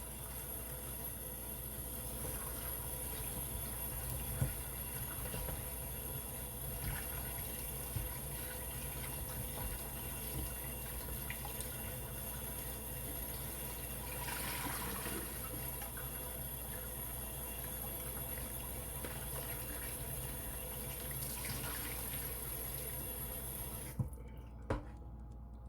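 Turkey neck rinsed under a running kitchen tap, a steady broad rush of water flowing continuously with faint clinks and handling sounds, no talking.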